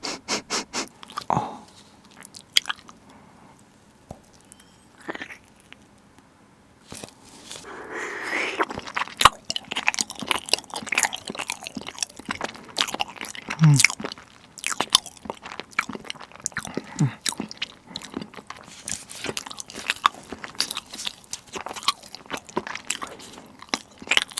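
Biting and chewing into a dense, brick-shaped block of thick Greek yogurt, close up with soft wet crunches and repeated sticky mouth sounds that come in bursts, busier and louder in the second half, with no talking.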